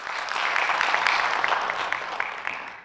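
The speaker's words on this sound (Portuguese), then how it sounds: "Palmas para ele." A crowd applauds, a steady wash of clapping that holds for a few seconds at moderate loudness, with no voices above it.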